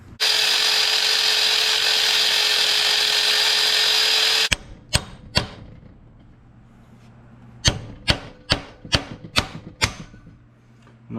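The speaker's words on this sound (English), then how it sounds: "you can smack it with a punch or chisel and you can snap it in half and pull it off" Sharp metallic hammer strikes on a punch or chisel against a timing gear on a Nissan 300ZX Z32, a few spaced hits then a quick run of blows, following a loud sustained grinding tool whine.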